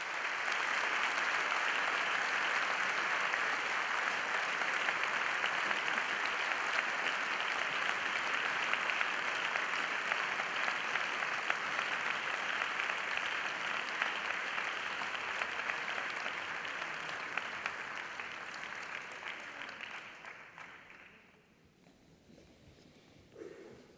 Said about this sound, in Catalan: Un fort aplaudiment, sisplau, per tots ells.